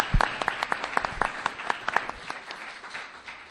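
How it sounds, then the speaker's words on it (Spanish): Audience applauding the speakers at the close of a Spanish-language talk; distinct individual claps ring out sharply at first, then blend into a thinner, fading patter of scattered clapping. "Les damos un aplauso."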